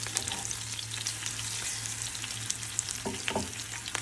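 Green chillies fry in a pan, a loud, steady crackling sizzle with sharp spits and pops, close up and with no voices.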